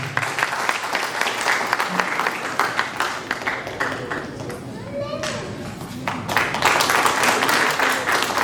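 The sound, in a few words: audience applauding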